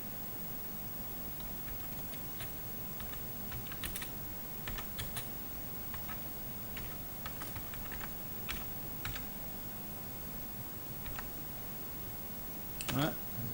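Fingers pressing keys on a ZX Spectrum+ home computer keyboard, a quiet, irregular run of plasticky clicks with pauses between bursts, over a faint background hiss.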